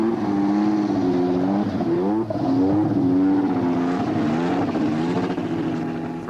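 A turbocharged Formula One engine runs nearby, its pitch rising and falling as it is revved, with no talking.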